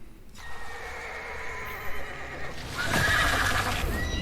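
Horses whinny and neigh amid a busy, noisy background in The Wheel of Time series, with a louder, brighter whinny swelling near the end; hoof clatter mixes in.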